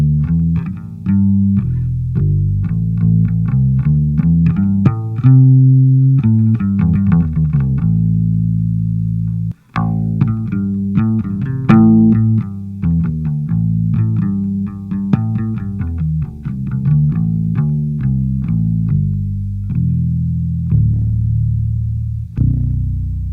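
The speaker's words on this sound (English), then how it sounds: "the bass is definitely booming with the Precision bass" An electric Fender Precision bass plays a steady run of deep, booming notes through a Warwick Gnome amp with a slightly driven tone, continuing alone with a brief gap near the middle.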